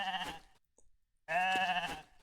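Two loud, close sheep bleats from a polymorph spell in RAID: Shadow Legends, each a wavering nasal cry separated by a brief pause.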